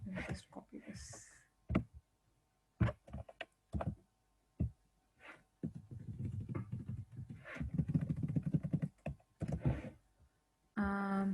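Code being typed on a computer keyboard, scattered key clicks in short bursts mixed in under someone talking throughout.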